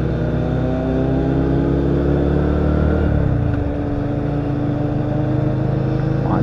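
An Italjet Buccaneer 250 four-cylinder motorcycle runs close by with a steady, buzzing engine note that shifts pitch partway through, heard alone without talk.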